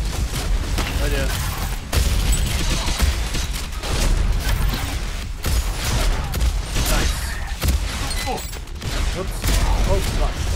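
Rockets and gunfire boom in a frantic fight in Deadlink, a cyberpunk roguelite shooter. Dense repeated blasts and mechanical clatter run throughout at high volume.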